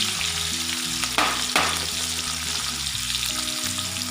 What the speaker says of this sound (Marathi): आपल्याला याच्यामध्ये कांदा घालायचा आहे आणि कांदा छान तळून घ्यायचा आहे